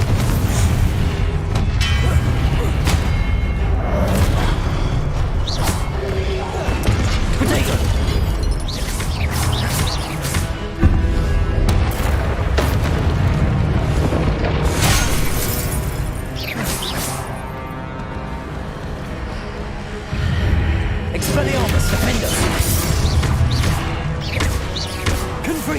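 Explosive spell blasts during combat in the video game Hogwarts Legacy: repeated heavy booms and crashes over a dense, continuous wash of game effects.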